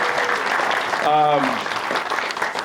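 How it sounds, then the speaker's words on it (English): Attendees at an energy summit opening reception give a round of applause for small business owners, the clapping running throughout, briefly overlapped midway by a voice. "Let's give them a round of applause also."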